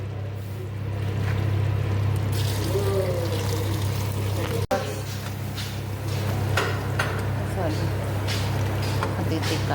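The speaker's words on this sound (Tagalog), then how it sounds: "Ilagay na natin ang tubig guys." Water is poured into a cooking pot while making chicken soup, a splashing, trickling pour under a steady low hum, with a person talking over it.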